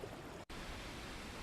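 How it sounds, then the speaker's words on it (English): Stream water ambience from a relaxation app, a soft, even, continuous trickle and rush of flowing water at low volume, with a very brief dropout partway through. "I love the stream. That sounds pretty nice."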